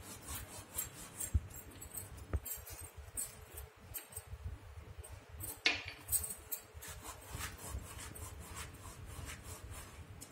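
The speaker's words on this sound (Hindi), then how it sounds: "और अजवाइन को इस तरह से थोड़ा सा किस करके डालेंगे" Carom seeds (ajwain) crushed between the palms over a dough mixture for Bihari nimki, a close, soft dry rubbing and grinding texture that runs steadily throughout, with a few light knocks and no talking.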